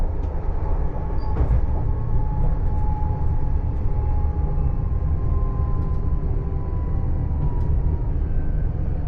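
A TER regional diesel railcar rolls into Grandvilliers station, heard from the cab as a continuous loud low rumble of engine and wheels, with faint squeals and clicks over the steady drone.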